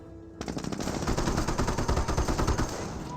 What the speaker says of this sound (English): And now the 50 cal is firing.